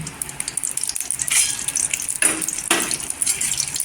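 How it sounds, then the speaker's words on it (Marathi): Cashews, almonds and raisins frying in ghee for homemade jaggery vermicelli, a soft steady sizzle with a few louder spluttering bursts and light stirring scrapes close by. "घी मध्ये छान असं गोल्डन कलर असा फ्राय करून घ्यायचं"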